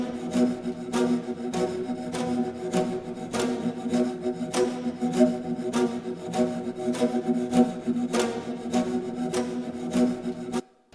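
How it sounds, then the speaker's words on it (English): Spiccato string movements from the Cycles 2 library, a steady bouncing pattern of short bowed strokes over a sustained string bed with sharp percussive accents, moderately quiet and without voices. "I've got this string thing from Cycles 2"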